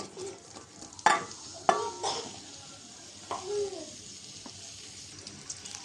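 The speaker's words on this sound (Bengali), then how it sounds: "তেল দিয়ে দিলাম পেঁয়াজ আর কাঁচামরিচ দিয়ে দিলাম" Onion and green chili fry in oil in a pan for a Bengali chicken curry, giving a steady sizzle. A few louder stirring scrapes cut through it, and soft background voices are heard.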